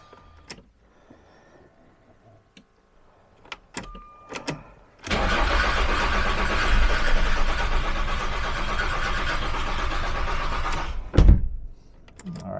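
A diesel Jaguar X-type estate that has run out of fuel is cranked over. After a quiet stretch with a few clicks, a loud, steady churning whirr holds for about six seconds, then ends in a sharp thump and clunk.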